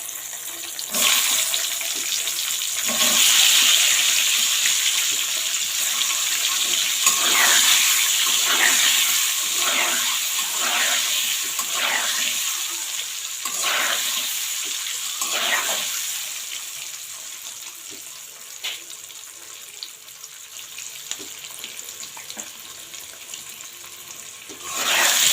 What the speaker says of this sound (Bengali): ডিমগুলো এখন আমি দিয়ে দেবো।